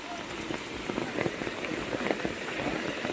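Steady rain patters over farm fields in the Konkan region, with scattered sharper drips, fairly close and moderately loud.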